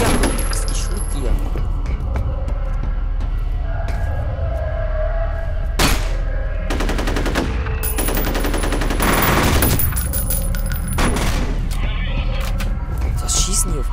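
Enemy gunfire in the shooter F.E.A.R.: loud bursts of automatic fire come in several clusters over a constant rumbling din, while someone speaks German through much of it.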